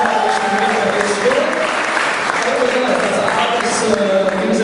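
An audience applauds a participant named Dāvis during a stage event. Loud, continuous clapping and crowd noise fill the whole stretch, with voices rising above it at times.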